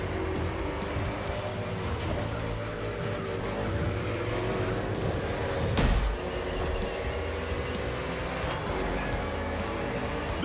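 NASCAR race cars roaring through an urban street circuit in Honolulu, Hawaii, in The Crew Motorfest, a steady loud engine drone with shifting pitch and a brief pass-by swell midway.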